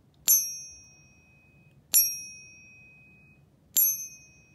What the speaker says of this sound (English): using the pocket pinger to test for counterfeit 1 ounce silver bars by using the sound that they make while they're pinging